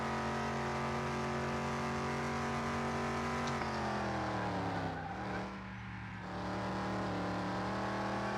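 A race car in Car Mechanic Simulator 2021 drives hard around a track, its engine droning steadily at high revs, then dropping sharply as it brakes before climbing back up.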